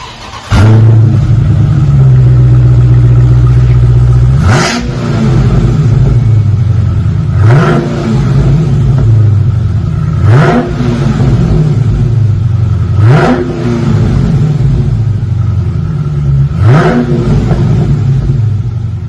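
A 2020 Dodge Scat Pack with factory mid mufflers revs hard six times at roughly three-second intervals, each sharp bark falling back to a deep, loud V8 burble between blips, with no talking.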